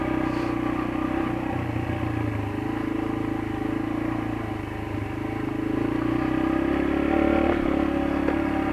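Yamaha TT-R125LE dirt bike with an aftermarket exhaust, a continuous loud engine drone with poppy revving that swells and dips and climbs toward the end, heard outdoors in a backyard.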